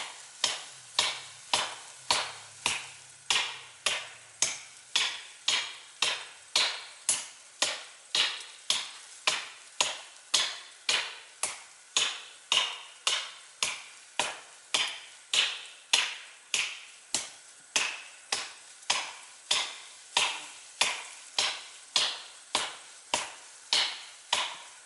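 A tree is chopped with a hatchet or hand axe in a long, steady series of sharp, evenly spaced blows, dozens of crisp, close strikes ringing out at a regular rhythm with no talk.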